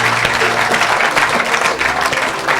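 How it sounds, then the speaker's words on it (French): A large church crowd claps and cheers loudly and continuously at a lively deliverance service, dense applause filling the whole stretch with no clear voices above it. "Acclamez pour Jésus."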